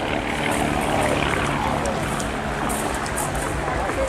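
Two RV4 kit-built light aircraft flying at an airshow, a steady broadband propeller-engine drone holding at a constant level throughout, with faint voices or background sound mixed in.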